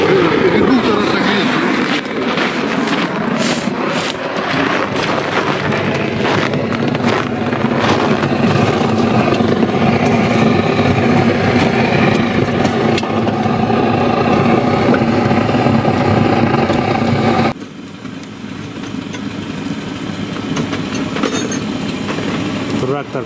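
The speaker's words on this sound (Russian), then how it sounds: "трактор как будто простреленный" A worn tractor working in a logging area runs rough. Its uneven engine clatter is heard close up under people talking, then it drops abruptly to a quieter steady drone near the end.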